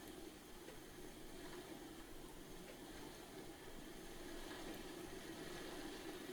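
An O gauge model 3MT steam locomotive runs along an end-to-end layout, giving a steady, even mechanical rumble and hum that continues unbroken throughout, with no voices.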